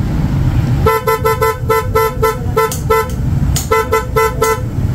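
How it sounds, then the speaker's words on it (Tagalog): A loud, close aftermarket horn on an ADV160 scooter honks in a rapid series of short beeps, with a brief pause before another quick burst. "Loud horn."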